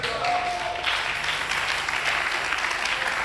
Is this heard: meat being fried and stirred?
no